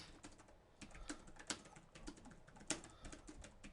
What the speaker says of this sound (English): Don't mind me, I'm just typing away.